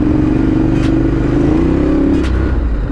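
A motorcycle engine hums loudly nearby, holding a steady mid-pitched drone with a slight rise, amid traffic noise.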